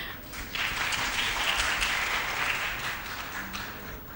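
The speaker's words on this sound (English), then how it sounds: "That was not supposed to be a clap" A panel discussion audience breaks into applause, a dense wash of many hands clapping from a crowd, steady for a few seconds and then tapering off without any talking.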